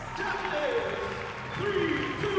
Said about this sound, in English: when a good poem goes up, it's every team cheering